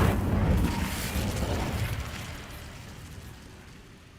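A fiery spell blast from the wizarding game Hogwarts Legacy in a wand duel, a loud booming burst at the start that rolls off into a fading rumble over four seconds.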